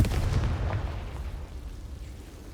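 A fire-blast spell goes off in the video game Hogwarts Legacy, a deep rumbling boom that swells at once and slowly fades over a couple of seconds.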